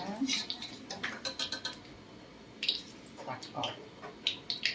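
Fried eggs for son-in-law eggs are scooped from a pan with a metal utensil, giving a run of light scraping clinks and taps, a brief pause, then more scattered scrapes, with quiet speech in between.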